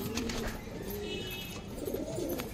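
Pigeons kept by a fancier in India coo softly and repeatedly at a moderate distance, over a busy background of outdoor noise, with no talking.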